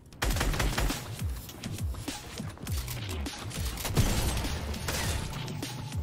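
Heavy gunfire in an Apex Legends-style shooter game, rapid automatic bursts and a near-continuous fusillade of loud, close shots, with little talk over it.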